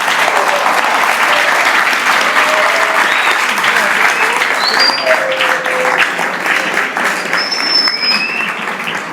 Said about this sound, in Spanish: que le brindemos un fuerte aplauso por haber estado con ustedes